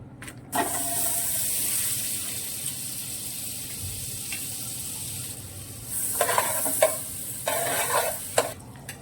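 Butter melting in a pot while layering mutton biryani gives a steady soft hiss of sizzling, with a few bursts of stirring clatter and scraping near the end.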